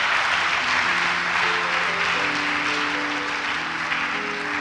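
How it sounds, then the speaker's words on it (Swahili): A church congregation at a Sunday service applauds in a dense, steady wash of clapping that runs without a break, with sustained held musical tones beneath it. "Umpigie makofi Yesu."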